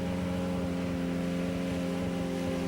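A six-cylinder Holden car engine roars steadily in a burnout competition, a dense, sustained droning rev with a constant tone, loud and unbroken throughout with no voices.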